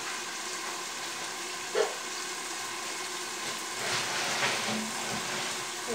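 Rohu fish frying in a covered pan with oil, giving a faint, steady sizzle throughout, with one soft knock near the start and a slight swell in the crackle toward the end.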